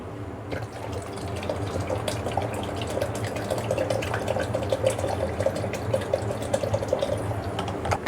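Water streams steadily into mango juice in a kitchen, a continuous trickling pour with light splashes that lasts several seconds and is heard alone.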